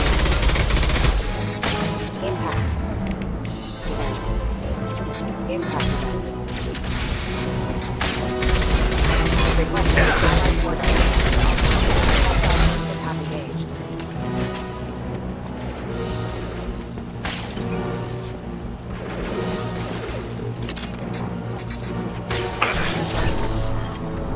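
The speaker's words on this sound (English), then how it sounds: "Firing a high impact shot." Combat gunfire in the Mass Effect 2 video game: loud, continuous bursts of rapid shots and heavy impacts that keep going throughout the clip, with a thicker, heavier stretch in the first half.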